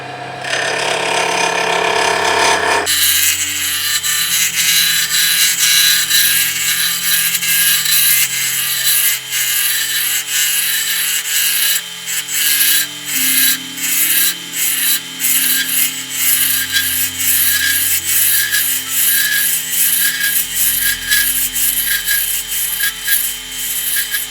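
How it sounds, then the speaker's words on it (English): A short roughing gouge cuts an ebony pen blank spinning on a wood lathe, a loud continuous rough scraping and chattering that starts abruptly after a brief quieter lead-in and runs unbroken to the end. "We turn the blank into a cylinder with a short roughing gouge."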